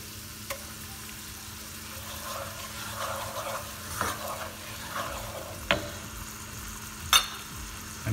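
Onion paste with ginger and garlic fries in a pan, a steady close sizzle broken by a few sharp clinks of stirring, with no talking.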